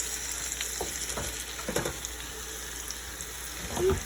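Bratwurst sizzles in a frying pan with a constant crackling hiss, dotted with small pops and occasional stirring taps close by.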